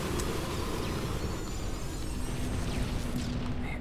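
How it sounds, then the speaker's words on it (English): Explosions in the video game Halo 2 form a dense, continuous roar of blasts and rumbling, loud and steady for the whole stretch, with no talk over it. "I hear explosions everywhere."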